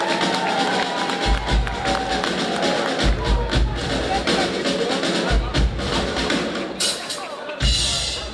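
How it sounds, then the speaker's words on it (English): Audience applause at a police awards ceremony, a loud, dense wash of clapping and crowd noise with a voice over a PA system heard over it. "Let's give them a round of applause"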